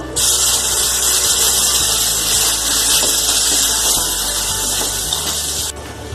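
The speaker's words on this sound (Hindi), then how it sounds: "अभी इमली का पल्प डाल देंगे इस पे।" Tamarind pulp is poured into a pan of frying potatoes, giving a steady, loud rush of liquid that runs unbroken for about six seconds and then cuts off, with no talking over it.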